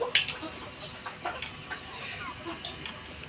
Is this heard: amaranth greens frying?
no